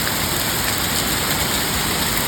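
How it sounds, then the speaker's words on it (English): Rain and hail fall in a dense, even hiss that runs without a break, close and fairly loud. "it had to start raining and hailing."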